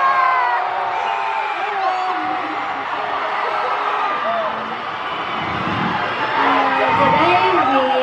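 A crowd at an aespa showcase in Los Angeles shouts, whoops and cheers continuously in a loud, high-pitched wash of many voices, with individual screams rising above the din throughout.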